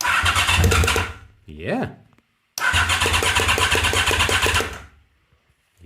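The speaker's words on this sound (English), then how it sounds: "I think this has to be cranking for the fuel pump to fire" A 1986 Honda VFR 750 F motorcycle that sat outside for seven years cranks loudly in two long bursts, a steady churning starter rhythm with a brief rising whine between, and a short spoken word.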